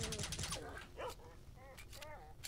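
Dogs barking and yipping in the video game S.T.A.L.K.E.R.: Shadow of Chernobyl, several short barks scattered across the clip over game noise, with someone talking throughout.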